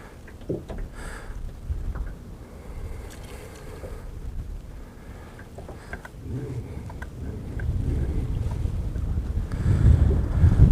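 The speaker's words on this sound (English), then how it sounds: "this wind is really hindering my fishing here" Gusty wind buffeting the microphone beside the water during a fishing outing, a continuous rough roar that swells louder toward the end.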